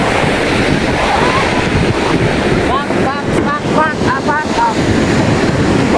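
Large ocean waves churn and crash in a loud, steady roar, heavy wind gusting across the microphone, with a few faint chirping calls and distant voices in the middle.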